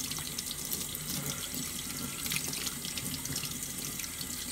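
Tap water runs steadily into a sink while raw crab is scrubbed and rinsed under warm water, a continuous close splashing hiss with no voices.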